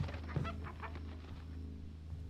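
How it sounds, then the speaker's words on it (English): Chickens clucking in the horror game Hollow Cocoon, set in 1980s Japan, a close cluster of short clucks and fowl calls over a low steady hum. "Are they killing the chickens?"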